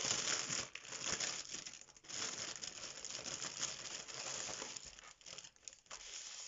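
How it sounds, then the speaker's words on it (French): Steady crinkling and rustling of plastic packaging being pulled off a stamped cross-stitch kit up close, with a few brief pauses and no voices. "Je déballe."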